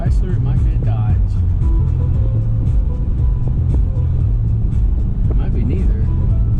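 A Chevrolet Equinox rolls by with a steady, loud low rumble of engine and road noise that stays fairly even throughout, while faint voices murmur underneath.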